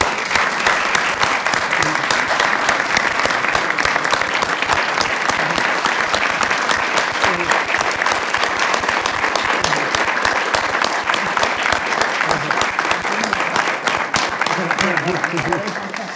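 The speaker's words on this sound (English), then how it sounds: "I hope you'll join me in giving one final round of applause" Loud, sustained applause fills a Metropolitan King County Council chamber in honour of departing councilmembers, dense clapping continuing unbroken for the whole stretch with faint voices underneath near the end.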